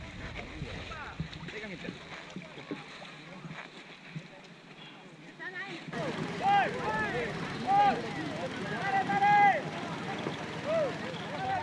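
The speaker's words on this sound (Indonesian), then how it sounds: "Teriakan-teriakan dari nelayan bercampur dengan suara mesin perahu" A fishing boat engine drones beneath loud, overlapping shouting voices of several Indonesian fishermen, the yelling growing busier and louder partway through.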